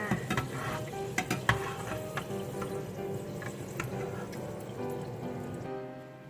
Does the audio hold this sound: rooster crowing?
no